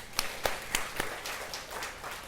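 A church congregation claps for a young bus driver after a worship service, with a few sharp, separate claps that thin into soft, scattered applause at a modest distance.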